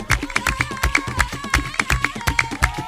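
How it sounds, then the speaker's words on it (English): In Baka music, hand claps land on the beat: crisp, evenly spaced hits pulse through a dense groove of drums and sustained singing voices, all close and fairly loud. "If you put a clap in on the beat,"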